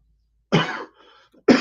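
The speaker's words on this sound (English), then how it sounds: "Still have this little trickle of a cough that's still lingering" A man with a lingering cough gives one sharp, close cough, followed by a faint throaty rasp and the start of a second cough.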